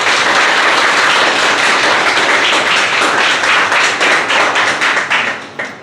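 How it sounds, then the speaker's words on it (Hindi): Loud, dense applause from an audience at a motivational talk with an ex-serviceman, steady close clapping throughout before tapering off at the end. "तो सबसे पहले एक ज़ोरदार तालियां हो जाएं।"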